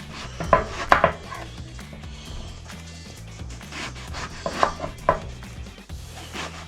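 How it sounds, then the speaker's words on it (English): A knife cuts food into thick, burger-sized slices on a board, with several firm, close chops and thuds, a few louder strikes, and quieter scraping between them. "I'm going to cut them in slices about that thick"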